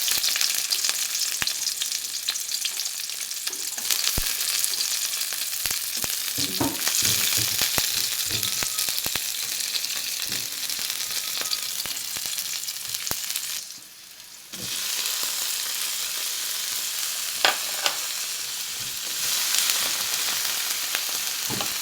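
Garlic and onion frying in a pan, a loud, dense, continuous sizzle with crackling spits and stirring clatter, briefly dipping before resuming at full strength.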